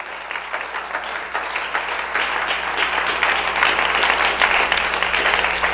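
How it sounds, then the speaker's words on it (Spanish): A church congregation claps steadily, the applause building slightly and holding strong for several seconds, with a faint hum underneath. "Fuerte el aplauso al Señor"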